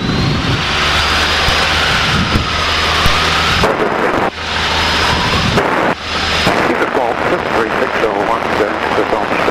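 Light aircraft engine roaring loud and steady during takeoff departure from a runway, with brief dips in the drone and a radio-style voice talking over it.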